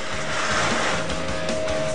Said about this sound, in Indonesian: Lanjut, setelah cat menempel, kita poles. Pakai mesin poles pastinya.